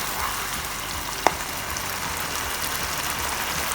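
Cauliflower cooks in a pan for a cauliflower roast, giving a steady, even sizzle and crackle with a single sharp tick midway, and no talk.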